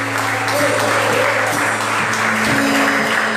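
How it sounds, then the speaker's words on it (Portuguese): A Portuguese-speaking church congregation claps in a brief, dense burst of applause over a low, steady hum. "Aplauda ele, pessoal."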